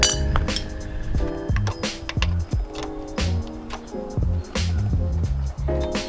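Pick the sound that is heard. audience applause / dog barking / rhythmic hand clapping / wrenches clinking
wrenches clinking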